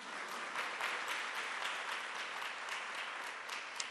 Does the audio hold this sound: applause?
yes